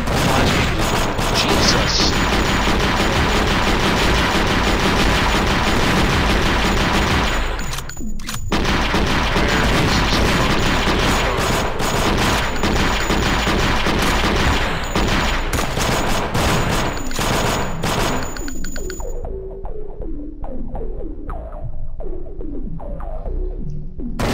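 Rapid, loud bursts of shotgun fire in the video game Thing Thing 3, dense repeated blasts filling most of the stretch with a short gap partway, then fading to scattered softer shots near the end; no talk.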